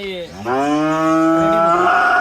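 A cow on a Bangladeshi dairy farm gives one long, loud, close moo lasting about two seconds, with no talk over it.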